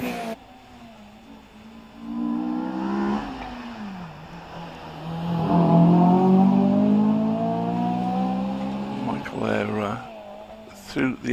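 Michael Thompson's Honda S2000 with its 2-litre engine climbs the Prescott hill course, its engine note rising and falling through gear changes, swelling louder mid-run and fading, with a commentator talking over it.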